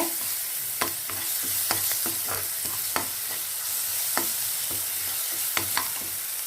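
Ginger garlic paste sautéing on medium heat for a pea masala sundal, a steady soft sizzle with periodic sharp scrapes and taps of a spoon stirring the pan, close and without talk.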